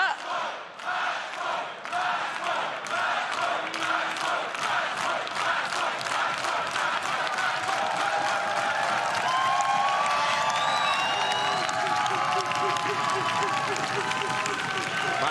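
An esports arena crowd at a million-dollar ALGS grand finals chants in a rhythmic, evenly spaced pulse, then breaks into loud sustained cheering and roaring that builds toward the end.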